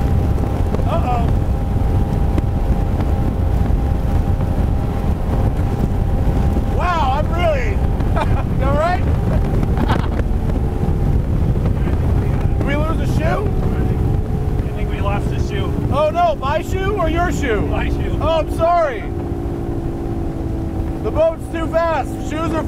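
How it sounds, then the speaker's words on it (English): A 2012 Checkmate 24 speedboat with a 300 HP engine runs at speed, its loud drone sustained throughout beneath wind buffeting, with a person talking over it in short bursts. "Wow, this is a really cool boat, man. I like this a lot. It's really got some power to it, huh?"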